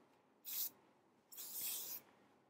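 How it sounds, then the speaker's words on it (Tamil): Two hissing bursts of Gatsby hair spray from an aerosol can, a short spritz followed by a longer one about a second later, close and fairly loud against a quiet room. "Hair spray, I'm using some Gatsby hair spray."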